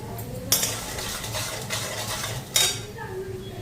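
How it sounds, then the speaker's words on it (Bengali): Spice paste with cumin powder frying in a pan, with a spatula scraping and clinking against the metal at two sharp moments over a low, steady background hiss. "জিরার গুঁড়া দিই মশলাটা এখন ভালো করে ফ্রাই করি"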